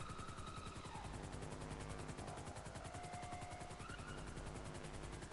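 An aircraft flies overhead in Grand Theft Auto V, a faint, steady, rapid pulsing engine drone with a wavering tone that holds constant throughout, and no talk over it.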